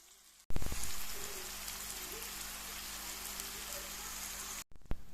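Chopped bell pepper hits a pan of frying onions and bursts into a loud, steady hiss and crackle at close range. The sizzle runs unbroken for about four seconds, then ends abruptly.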